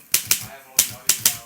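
Five sharp, close keystrikes from a manual typewriter, as in The Shining, land in an uneven rhythm of two quick strikes, a pause, then three more, each with a crisp clack and short ring.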